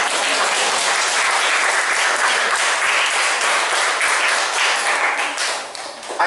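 A large audience breaks into dense, sustained applause, loud and continuous, thinning slightly near the end.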